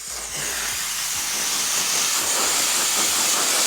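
A heat gun blows steadily on car adhesive near the paint, a continuous broadband hiss that holds loud and close for the whole stretch with no voices.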